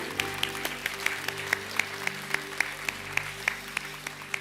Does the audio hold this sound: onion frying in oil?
no